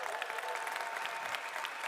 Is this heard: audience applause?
yes